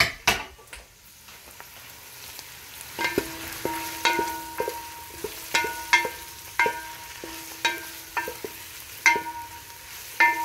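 Tofu for Ilokano pinakbet fries in a pan and is stirred: a low steady sizzle under regular scraping strokes and light clinks of a utensil on the pan, close by.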